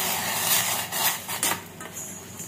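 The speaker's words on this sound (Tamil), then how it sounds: "We will mix the rose petal." A spoon scrapes and clinks around a metal pot while stirring a rose petal mixture, giving a few close, uneven knocks and rasping swirls with no talk.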